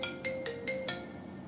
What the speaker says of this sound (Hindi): विशाल का फोन